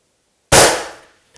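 A single sharp rifle shot from a 7mm Backcountry fired at a long-range target, a loud close crack with a quickly fading decay, followed by a faint distant tick about a second later.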